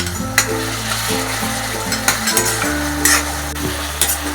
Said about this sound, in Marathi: कांदा जरा लाल होईपर्यंत जरा परतून घेऊया आपण टोमॅटो टाकून घेऊया